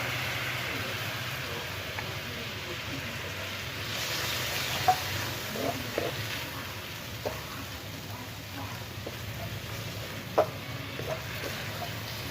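Beef stir-frying in a pan with a splash of stock for a Japanese-style beef rice bowl, a steady close sizzle with occasional clinks of a utensil against the pan.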